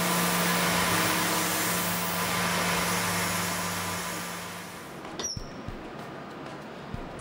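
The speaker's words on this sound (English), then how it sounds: "coming back to our 1/16th end mill to do the final depth of cut to machine away those tabs" A CNC mill cutting away holding tabs with a 1/16 inch end mill on its final depth pass while machining a gear ring: a steady, loud machine whine and hum for about five seconds, then it winds down into a few faint clicks and taps.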